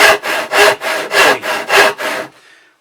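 A hand saw cuts through scrap timber in eight steady, loud, rasping strokes of even rhythm, close by, before the cutting stops and only a faint tail remains.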